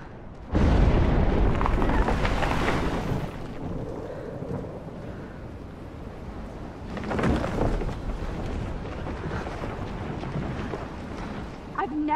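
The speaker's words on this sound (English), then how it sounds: "I've never seen a storm like this in Oregon." A thunderstorm in the video game Life is Strange, set in Oregon: heavy, broad rumbling crashes swell loudly at the start and again midway, over a constant roar of wind and rain.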